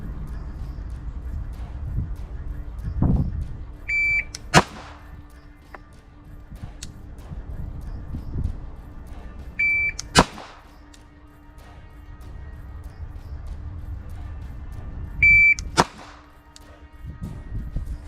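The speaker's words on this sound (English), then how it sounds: "On the beep, I want you to take it off safety and just fire one shot." Three sharp, loud gunshots from a Staccato CS pistol fired from the hip, spaced about five seconds apart, each one preceded by a short electronic timer beep, with low rumbling handling noise in between.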